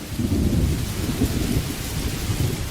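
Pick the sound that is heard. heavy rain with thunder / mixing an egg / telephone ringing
heavy rain with thunder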